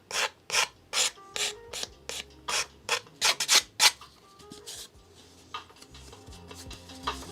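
Hand sanding of a small N scale model part: a run of about a dozen close, rhythmic rasping strokes, then quieter scattered rubbing and handling noises, with no talking.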